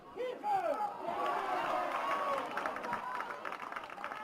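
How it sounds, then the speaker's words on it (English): A football crowd at a women's Super Cup semi-final soccer match in Cairns, Edge Hill United versus Souths United, rumbles and cheers in a broad, steady roar beneath a commentator's voice. "This crowd really is coming to life here in Cairns."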